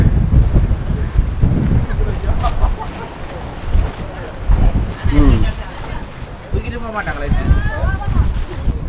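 Strong wind gusts batter the microphone outdoors at Riverstone near Matale, Sri Lanka, roaring loud and uneven throughout while people talk over it.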